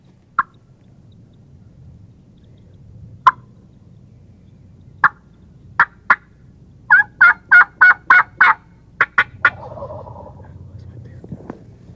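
Wild turkey gobblers in Tennessee answer a hunter's calling with several sharp, separate gobbles. A tight burst of rapid notes follows, ringing out clearly over a quiet, faintly rustling background.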